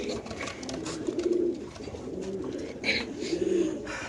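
A caged pair of white tracer pigeons coos softly in low, rolling bursts, a few calls close by over a faint background murmur.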